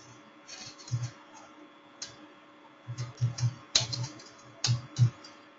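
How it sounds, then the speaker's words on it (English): Computer keyboard being typed on in short bursts of quiet clicks and taps, close and soft, with pauses between groups of keystrokes. "So I can type that brand name in there, copy it, drag it down."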